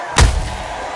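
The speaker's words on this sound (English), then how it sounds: "What a knockout headshot." A knockout headshot punch in the boxing game Undisputed; one heavy, booming thud lands sharply and then fades out in a short rumbling tail.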